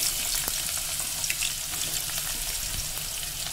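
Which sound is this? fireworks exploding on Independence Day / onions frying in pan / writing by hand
onions frying in pan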